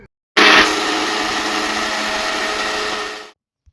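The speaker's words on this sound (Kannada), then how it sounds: "ಇದು ನಾವು ಮಿಕ್ಸರ್ ಮಾಡ್ಕೊಂಡು ಬರೋಣ ಬನ್ನಿ." A kitchen mixer grinder blends chikoo juice with creamy milk, starting with a loud surge and settling into a steady, close whirring drone for about three seconds before cutting off.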